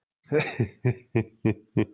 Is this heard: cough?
yes